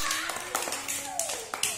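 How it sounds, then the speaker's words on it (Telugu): Young children clapping together in a first-grade classroom during a word lesson, a short burst of quick, uneven claps mixed with a teacher's voice and kids' chatter. "క్లాప్స్ కొట్టండి"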